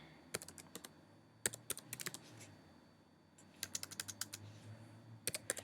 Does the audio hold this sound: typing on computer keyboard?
yes